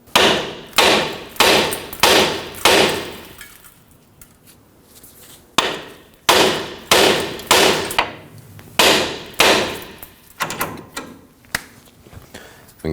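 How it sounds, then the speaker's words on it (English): A hammer strikes the steering knuckle of a 2009-2014 Ford F-150 to free the outer tie rod, delivering loud metallic blows in quick rhythmic bursts of four or five, separated by short pauses. "To release the outer tie rod from the knuckle, we'll go ahead and strike the knuckle right here"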